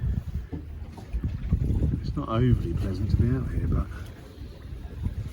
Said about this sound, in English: But the weather is setting in big time now. It is really windy.